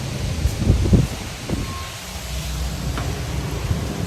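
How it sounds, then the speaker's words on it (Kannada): Strong wind blows outdoors, buffeting the microphone in low, rumbling gusts that swell and fade irregularly over a faint background hiss. "ಸಿಕ್ಕಾಪಟ್ಟೆ ಗಾಳಿ ಇದೆ"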